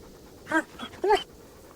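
A dog in the video game Kingdom Come Deliverance pants and whimpers in two short bursts of breathy, voiced huffs, fairly close and clear over a quiet background with no talking.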